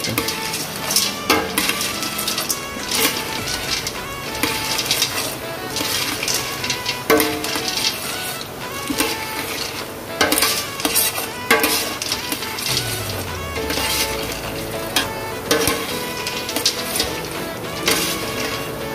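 Sopas ingredients get stirred and mixed in a cooking pot before any stock or water is added, with repeated close scraping and clanking of a utensil against the pot and a soft sizzle beneath.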